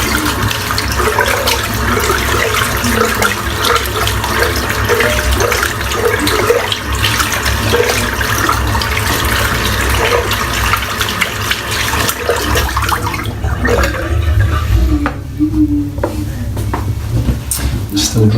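Steady running water from a tap while soap is rinsed out of a tie-dye shaving brush, a continuous close splashing stream that eases slightly near the end.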